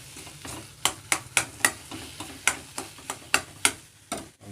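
Boiled potatoes frying with tomato, salt and turmeric for a potato curry, a low sizzle under a run of regular sharp taps and scrapes as a spoon stirs the pan.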